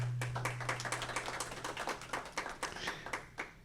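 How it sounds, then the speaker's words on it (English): Applause at a community housing forum, a small crowd clapping with distinct individual claps, thinning out toward the end, under a low steady hum. "Please give her a round of applause."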